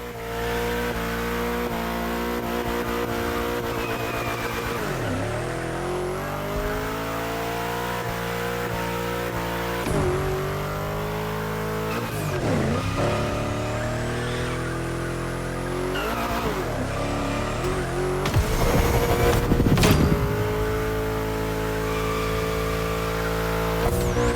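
Car drifting in The Crew Motorfest racing game, a loud continuous engine drone with repeated revving swells and tire squeals through bends, close and constant with no voices.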